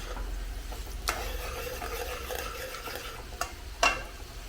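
Garlic frying in a pan for a bilimbi pickle: a soft, steady sizzle runs throughout, broken by a few sharp stirring clinks, with no talking.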